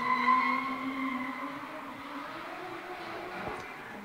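Mazda FC RX-7 drift car with 530 horsepower skidding through a sweeping left-hander at a D1NZ drift event at Baypark Stadium, a sustained engine and tyre howl at moderate distance, slowly fading.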